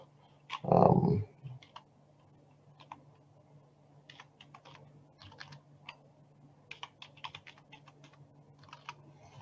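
Someone types a password on a computer keyboard, quiet irregular key clicks and taps near the microphone after a short muffled thump at the start.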